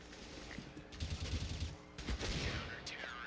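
Bursts of gunfire in a Counter-Strike match on the Cobble map, including Desert Eagle shots, cracking out in loud clusters over a continuous game background, with no talk during the shots.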